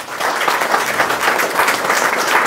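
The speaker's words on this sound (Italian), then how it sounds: "Grazie per il vostro applauso" Steady applause from an audience at the opening of an international art exhibition at Casa dei Carraresi, dense continuous clapping filling the room for a few seconds.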